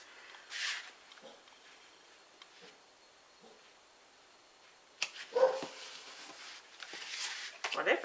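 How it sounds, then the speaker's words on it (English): A dog barks outside in faint, distant bursts: one early yelp, then a louder cluster of barks and whines toward the end. Quiet talk runs alongside. "I don't know what my dog is barking at out there."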